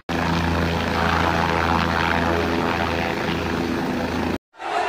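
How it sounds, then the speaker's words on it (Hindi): A helicopter arriving overhead in snowy mountains, a loud, steady rotor and engine roar with rhythmic blade chop that runs continuously before cutting off abruptly near the end, with no talking. "फाइनली हमारा हेलीकॉप्टर आ चुका ऊपर।"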